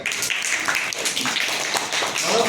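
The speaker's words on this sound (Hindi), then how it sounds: "बेटा तालियां बजाओ" A classroom of children claps together during an English lesson, a dense, bright patter of small hands that runs steadily for a couple of seconds and swells slightly toward the end.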